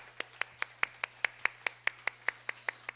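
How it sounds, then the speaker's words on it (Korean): About fourteen sharp, evenly spaced claps ring out in a steady rhythm, roughly one every fifth of a second, at a middle-school youth worship service, over a low electrical hum and with no talking. "하나님 감사의 박수 한번 올려드리겠습니다"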